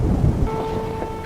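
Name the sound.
thunderstorm brewing in a TV show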